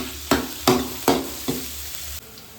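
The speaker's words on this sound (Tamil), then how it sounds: "வெங்காயம் நல்லா வதங்கிடுச்சு." Onions sauté in hot oil in a pan for mushroom fried rice, with four distinct spatula scrapes and a soft sizzle between them, close and clear with no talking.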